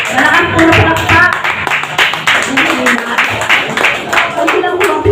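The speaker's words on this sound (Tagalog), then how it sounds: "Malakas po na palakpak" A church congregation in San Juan, Balagtas, Bulacan claps loudly during a testimony service, with steady crowded clapping running throughout and voices sounding over the applause.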